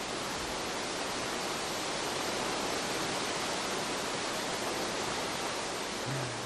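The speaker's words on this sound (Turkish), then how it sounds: "Şelale sesi." A waterfall roars as a dense, even, hissing rush of water, steady and fairly close, with no variation and no voices.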